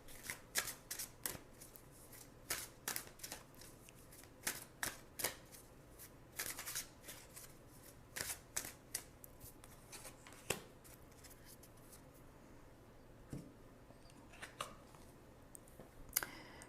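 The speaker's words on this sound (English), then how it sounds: "So let's pull a card for spiritual self or emotional self." Tarot cards are shuffled by hand for a card pull: a steady run of soft, close riffles and flicking taps in a quiet room, with brief pauses between bursts.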